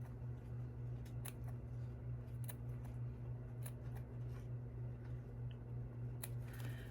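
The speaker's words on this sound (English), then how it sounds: "I'm just gonna snip a little bit so I can get a nice curve" Small scissors make a few quick, crisp snips into a fabric applique piece along a curve, close and soft over a steady low electrical hum, with no one talking.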